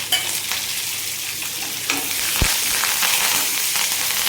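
Curry leaves and dried red chillies fry in hot oil with a loud, continuous sizzle and spatter, close by, with occasional stirring and no speech.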